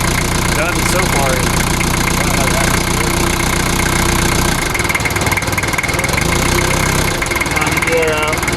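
A 1988 right-hand-drive Japanese-import Toyota Land Cruiser engine runs at a loud, steady idle with an uneven, slightly knocking throb, and voices are heard over it.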